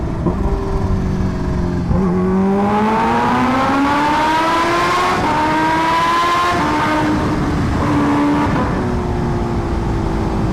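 A Kawasaki Ninja H2R motorcycle pulls away on cold tires, its engine note climbing steadily in a loud, close, continuous acceleration with a rising whine through several gear stages, no voices over it.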